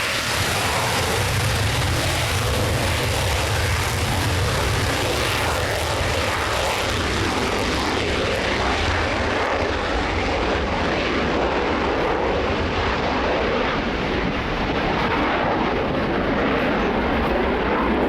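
Propeller aircraft flying at the Royal International Air Tattoo 2016 airshow, a loud continuous engine drone that holds steady throughout, slowly shifting in tone as the plane passes.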